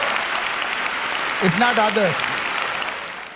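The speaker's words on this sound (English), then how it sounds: "At least the people who receive scholarships should clap for that" Applause from the audience at a school debate, a steady wash of clapping throughout with a voice speaking briefly over it in the middle.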